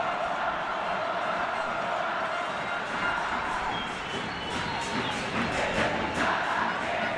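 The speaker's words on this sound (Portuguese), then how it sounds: "Enlouquecida a torcida do Emelec." A football stadium crowd of Emelec supporters roars and cheers wildly during a 2012 Libertadores round-of-16 match against Corinthians, a dense, continuous wall of voices with chanting swells throughout.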